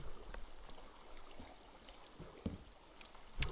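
Swimming upward through water in the Minecraft video game, with continuous splashing and bubbling water movement and a few louder sloshes near the end.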